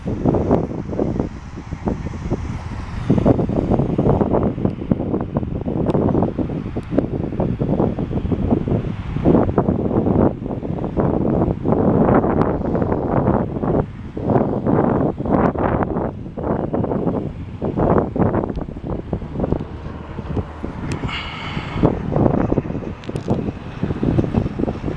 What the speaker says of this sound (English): You'll probably hear the wind now